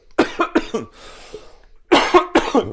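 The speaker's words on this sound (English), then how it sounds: "as I'm coughing my brains out here" Two bursts of harsh, close coughing, each a rapid cluster of three or four hacking coughs, separated by a short breathy pause.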